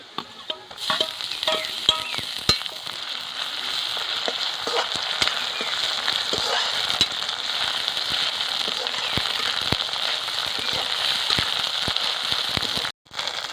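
Garlic, ginger and chili paste fries with browned onions in a pan, a steady close sizzle broken by stirring clicks and scrapes, going on without a break.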